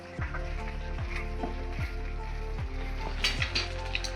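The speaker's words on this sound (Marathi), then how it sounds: "अंडे आपण आता टाकले, त्यांना हलवून घेऊया" Eggs frying in a pan are gently stirred, a soft background sizzle broken by light scraping and occasional clinks of a utensil against the pan, close and fairly quiet.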